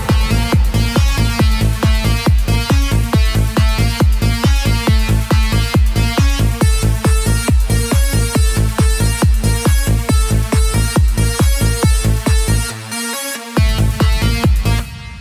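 A dense synth lead made in FL Studio plays a rhythmic, pulsing pattern with a chopped vocal sample. It is loud and continuous, with a short drop in the low end near the end.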